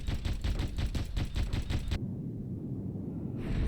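Machine gun firing in the video game Shattered Horizon, a rapid, loud burst of evenly spaced shots for about two seconds, then a low rumbling tail before more sound resumes.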